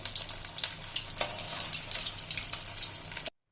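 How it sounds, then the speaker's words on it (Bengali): Katla fish pieces coated in batter frying in hot oil, a steady loud sizzle with crackling bursts close up, cutting off abruptly at the end. "আমাদের ফিশ ব্যাটার ফ্রাই ভাজা হচ্ছে"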